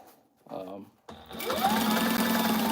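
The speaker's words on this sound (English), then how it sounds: "when I get done sewing this around the first time, I'm gonna go around it another 2 times" A sewing machine stitching a seam on tactical gear starts up after a brief pause and then runs steadily and loudly close by, with a short burst of softer machine sound just before.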